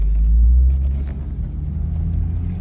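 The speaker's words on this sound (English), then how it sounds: "I really love the exhaust note on it" Exhaust note of a BMW 440 xDrive convertible, a deep low rumble that swells briefly and then settles into a steady throb, heard close and with no talk.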